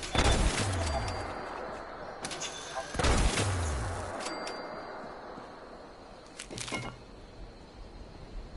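Gunfire in the Fallout 76 video game: a couple of heavy booming shots with echoing tails, spaced a few seconds apart, then a fainter crack, under quiet ambient game sound.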